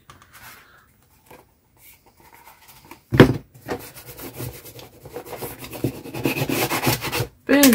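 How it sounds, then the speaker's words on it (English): A junk journal spine being burnished, heard as close, steady rubbing and rasping strokes on paper and board that grow louder and denser after a sharp knock, with no talking. "Burnishing."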